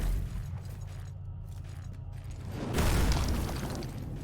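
Explosions in the video game Hellpoint, a low rumbling boom swelling midway through and lingering over a steady mechanical background hum, with no voices.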